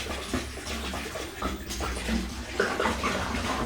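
Water glugs and splashes steadily from bottles into a homebrewing vessel, a continuous pouring wash with some bottle handling knocks, close and moderately loud.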